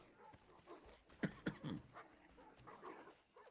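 Dogs give a few short, faint barks and yips in a quiet room, two louder close barks standing out amid softer whimpering sounds.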